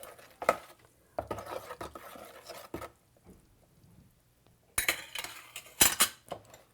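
Batter of flour, baking powder and water is whisked in a bowl for an Ethiopian breakfast, in irregular bursts of scraping and light clinking separated by quiet pauses.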